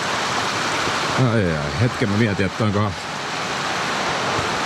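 A forest stream runs in Finnish backcountry along the UKK trail and Karhunkierros route, a steady rushing hiss of water that fills the whole clip while someone speaks briefly over it.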